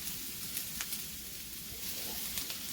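Garlic and chilies sizzle steadily in hot oil for spiced masala potatoes, a close, dense crackling hiss with small pops and no talk.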